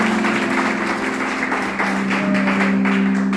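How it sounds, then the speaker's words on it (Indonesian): Church congregation applauding during a sermon, steady rapid clapping from many hands over a sustained musical drone, continuous and moderately loud. "Beri tepuk tangan bagi Tuhan Yesus."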